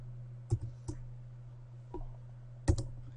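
A few sparse keystrokes on a computer keyboard entering values into a spreadsheet, with isolated clicks spaced unevenly over a low steady hum, close and fairly quiet.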